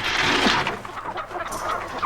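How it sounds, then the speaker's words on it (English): Several chickens cluck and squawk close by in a busy, continuous jumble, with no voices. "Never seen such nervous chickens."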